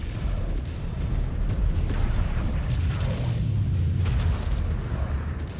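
Missiles exploding against an enemy mech in MechWarrior 5: Clans, a dense rumbling wall of deep booms and mechanical clatter that stays loud and continuous, with a few sharper hits rising out of it, no voices.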